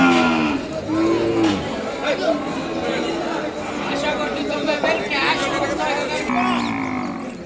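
Cattle, including young calves, moo repeatedly amid a busy crowd at a Sunday bull market in Kodad, Telangana, with people chattering and calling all around.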